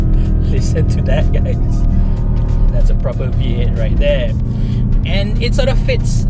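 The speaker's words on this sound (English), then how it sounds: "it actually sounds like an old school American style V8 with a low offbeat rumble" A BMW XM plug-in hybrid SUV's V8 engine rumbles steadily while driving, a loud low continuous drone under someone talking throughout.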